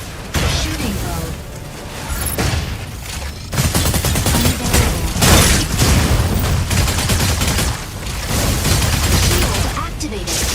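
Mech weapons firing in the Mecha Break video game, loud bursts of rapid gunfire in several long volleys with brief pauses, mechanical clanks and game voice prompts mixed in.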